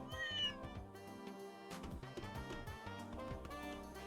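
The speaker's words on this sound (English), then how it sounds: "Ooh, look at Kitty Antoine" Cat meowing in the video game Trails in the Sky, several drawn-out meows over soft game music, fairly quiet and close.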